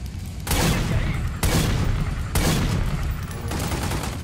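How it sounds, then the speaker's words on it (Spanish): Loud bursts of gunfire in a video game, about four heavy broadband volleys roughly a second apart, each rolling straight into the next with dense crackling, and no speech over them. "¿Quién es el loco que me está disparando?"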